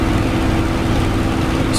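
A Spitfire's piston engine in Microsoft Flight Simulator drones loud, low and steady for a moment from the cockpit, with no change in tone.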